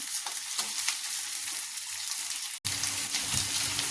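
Green chillies and boiled potato fry in a pan for a spicy capsicum potato curry, giving a steady close sizzle with stirring scrapes, a momentary break, then a fuller hiss.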